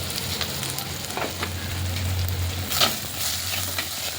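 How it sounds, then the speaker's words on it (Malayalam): Chopped ginger, garlic and shallots sautéing in a pan for a prawn curry, a steady close sizzle with scraping stirring and occasional utensil clicks. "ഇഞ്ചി, വെളുത്തുള്ളി, ചുവന്നുള്ളി ചെറുതായിട്ട് മുറിച്ചത് ഇട്ട് കൊടുക്കാം"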